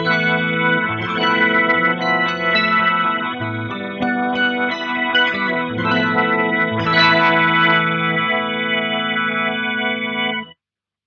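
Electro-Harmonix C9 organ machine pedal set to full organ signal with no direct guitar, giving sustained, chorused organ-like chords played in a continuous phrase, loud and close, ending abruptly.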